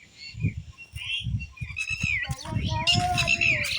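Several birds chirp and call beside a farm pond after rain, bright tweets and trills rising over nearby rustling and low voices talking in the background.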